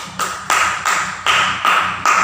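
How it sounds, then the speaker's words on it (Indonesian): Several bursts of hand clapping in a classroom lesson, in short, regular rounds, each lasting a few tenths of a second, fairly close and clear with no talking. "dijawab oleh Ibu Supri, maka kita diberi tepuk tangan."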